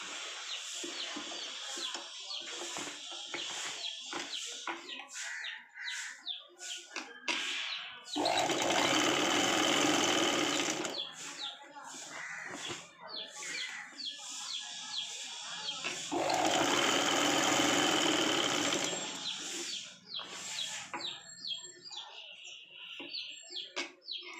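A sewing machine stitches a Punjabi dress top in two long, loud, steady runs, with short bursts and pauses of fabric handling in between.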